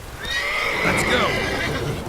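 A horse whinnies in a film chase scene, the neigh rising and falling over about a second amid hoofbeats and a shouting rider urging it on.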